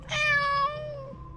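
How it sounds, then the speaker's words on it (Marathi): A single cat meow, close and clear, rising then trailing off over about a second against a quiet background. "मला दिवसातून किमान एकदा तरी मांजराचं ओरडणं तसंच ऐकू येऊ लागलं"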